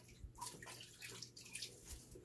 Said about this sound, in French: Vous ajoutez l'eau chaude à l'avocat comme ça